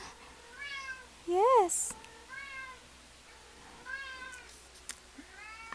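A pet cat named Magnus meows several times indoors, drawn-out rising and falling calls, one louder and close, with someone speaking briefly over the quieter background.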